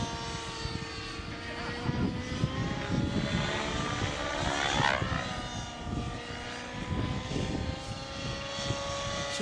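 A nitro-powered T-Rex 700 Nitro Pro RC helicopter flies high-speed passes. Its engine and rotor whine hold steady, then sweep sharply in pitch as it rushes past the listener midway.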